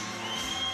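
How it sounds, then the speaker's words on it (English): Boxing crowd at the Liverpool Olympia cheering and shouting for a popular local fighter, a brief steady roar of massed voices. "as you can hear from the reaction of the crowd here at the Liverpool Olympia"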